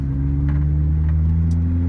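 A Lotus Elise engine hums with a steady, deep tone at high revs. It is recorded close on a phone and stays constant throughout the short span.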